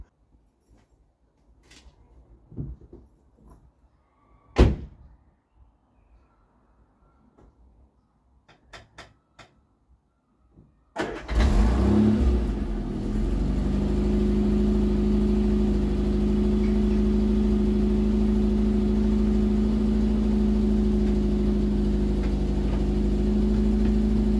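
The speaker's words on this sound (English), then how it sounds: "I'm just going to drive it backwards and forwards a little bit to check the clutch out." A 1975 Vauxhall Viva HC engine starts up on a cold day after some quiet clunks and knocks, then runs steadily at a low rumble, idling and moving slowly close by.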